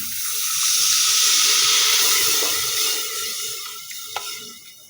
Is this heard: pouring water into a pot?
yes